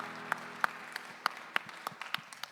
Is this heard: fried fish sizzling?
no